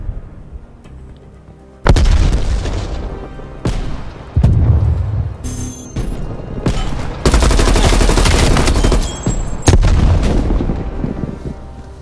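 Heavy in-game combat in Call of Duty: Black Ops Cold War includes a thrown frag grenade blast among loud booming explosions and bursts of gunfire, dense and continuous, with no clear talk.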